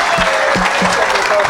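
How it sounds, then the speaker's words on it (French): Congregation at a church service applauding, with dense continuous clapping up close and some voices mixed in throughout the short burst. "Donne une acclamation."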